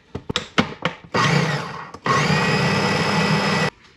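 A food processor or blender grinds carrot-top pesto in two long, loud bursts, preceded by several sharp knocks and taps as the sides of the container are scraped down between runs.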